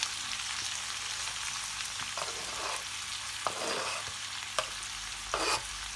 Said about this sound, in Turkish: Kapya, sivri, soğanım, sarımsağım hepsini döküyorum.